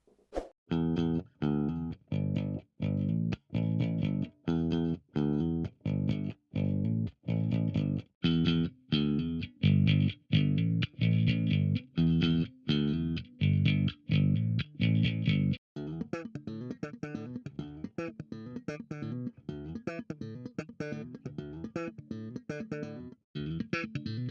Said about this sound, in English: So next up is distortion.